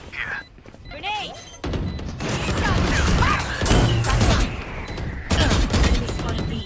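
A grenade detonates in a Valorant grand final match at Masters Madrid, a loud burst with crashing, booming debris amid other gunfire and game effects while casters talk over it.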